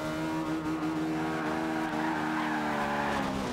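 A lowered 1997 Honda Civic Type R in Forza Horizon 2 drifts with a sustained, loud tire squeal over a high, steady engine whine, the pitch of both shifting slightly as the slide continues.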